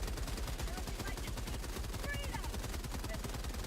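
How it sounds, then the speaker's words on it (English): Rapid, continuous machine gun fire from several guns at once in Helldivers 2, a dense, steady rattle that stays loud and close throughout without pause. "3 people on machine guns"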